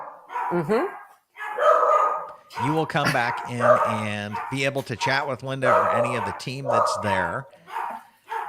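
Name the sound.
dogs barking, puppies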